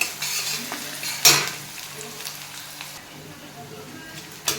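Peanuts fry and sizzle in a pan with onion while being stirred, a steady close hiss with a sharp scrape of the spoon partway through.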